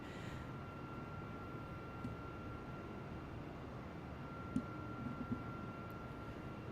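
Steady, low engine drone of an Airbus A320 airliner in Microsoft Flight Simulator 2020 over Hawaii, a continuous faint rumble with a thin steady whine, no voices.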